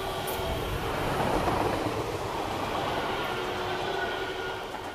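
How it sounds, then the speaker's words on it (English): An electric passenger train rolls past while departing Rungsted Kyst station in Denmark, a steady, broad rumble and rail hiss with faint squeal, close and continuous throughout. "here we see the train, the electric train, rolling by as it departs Rungsted Kust"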